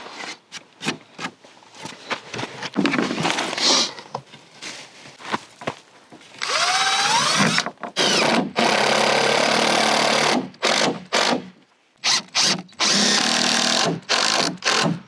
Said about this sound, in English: we've just been going through and adding the liquid nail and then putting screws in